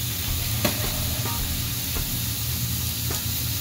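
Poblano chile and nopal sizzle steadily in a hot pan, a continuous close frying hiss with a few soft stirring knocks and no talk.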